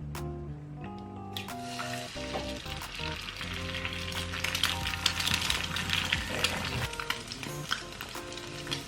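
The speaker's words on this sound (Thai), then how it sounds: "ขั้นตอนต่อมาเราจะมาทอดไข่ดาวกัน" Eggs frying in hot oil in a pan for kimchi fried rice, a steady close sizzle and crackle with occasional utensil clinks and tapping, growing busier, no talking.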